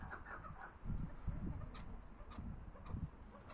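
A fighting rooster clucks and scratches about in low, throaty bursts during a match, fairly faint, amid some background scuffling.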